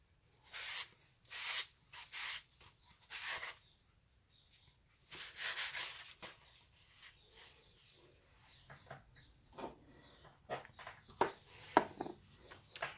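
Several short rubbing strokes of a cloth patch over a coaster, faint, close, and rhythmic, followed by quieter scattered scrapes.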